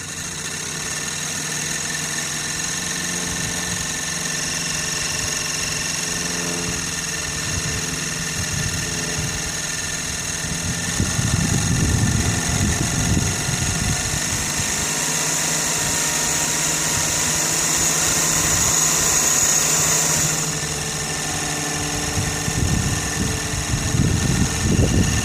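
A Sirius steam engine driving a generator runs steadily with a constant mechanical hum and whine, with low thumping bursts joining partway through and again near the end.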